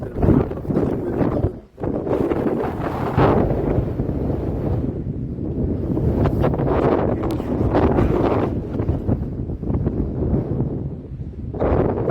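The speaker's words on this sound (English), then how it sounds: "A very windy sunrise in the dome." Strong wind buffets the microphone continuously at sunrise on the Appalachian Trail, a loud roaring rumble with gusts rising and falling throughout, briefly dipping once near the start.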